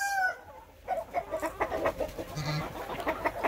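Several chickens cluck and murmur inside a chicken house at morning waking time, with a rooster-like call at the start and then busy, overlapping clucks close by.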